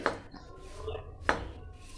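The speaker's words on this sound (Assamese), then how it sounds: "এনেকৈ এখন হেতাৰে এনেকৈ লৰাই থাকিব যাতে গুৰখিনি মুড়িখিনিত সম্পূৰ্ণভাৱে লাগি যায়।" A spatula stirs puffed rice coated in jaggery in a pan, giving two sharp scraping knocks about a second apart over a soft, continuous rustle.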